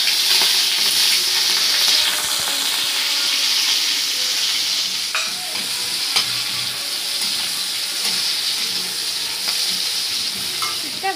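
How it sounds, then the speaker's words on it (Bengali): Sliced onions and slit green chilies frying in hot oil with black cumin already in the pan, a loud, steady sizzle with occasional stirring scrapes, close up, with no talking. "এবার ওই একই তেলে মশলাগুলো দিয়ে দেবো।"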